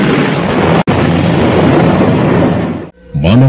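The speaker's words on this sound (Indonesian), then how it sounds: "Manakala petir tiba-tiba meledak didahului oleh seleret sinar" A thunder crack in an Indonesian audio drama, a long loud rumbling roar with a sharp break partway through that dies away, followed by a voice starting to speak.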